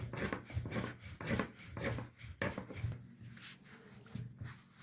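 Börek dough being rolled out by hand on a floured cloth, giving repeated soft rubbing and rasping strokes of a rolling pin in a steady back-and-forth rhythm, close and moderately loud.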